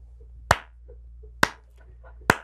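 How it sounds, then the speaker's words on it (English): One person gives a slow clap: three sharp, isolated claps spaced about a second apart over a low, steady hum. "Slow clap"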